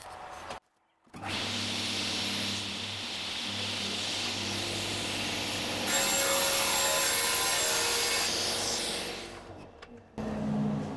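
Saw fitted with a 96-tooth finishing blade cutting through melamine panel, a loud continuous whining cut of about nine seconds that grows harsher partway through, starting and stopping abruptly.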